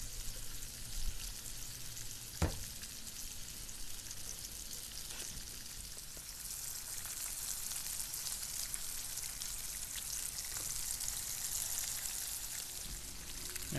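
Floured redfish fillets fry in a pan with a soft, steady crackling sizzle, faint and continuous like light rain, with a couple of louder clicks and pops along the way.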